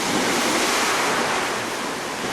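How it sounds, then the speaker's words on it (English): Ocean waves crash onto a rocky shore in Maui, a loud, close, continuous roar of surf and spray with wind buffeting the microphone. "Whoa, wave almost got us. Right on the edge of the water here."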